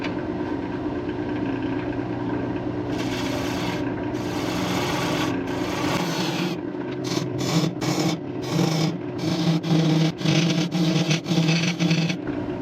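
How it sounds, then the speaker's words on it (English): A tool hollows out a wood piece on a woodturning lathe with a loud, continuous rasping scrape over the lathe's hum. Toward the end the cutting breaks into rapid repeated strokes. "Let's just start hollowing this thing out."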